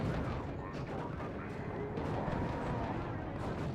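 Heavy explosions and gunfire rumble through a Space Marine video game battle as grenades go off, a dense, continuous barrage of booming blasts with no clear gaps.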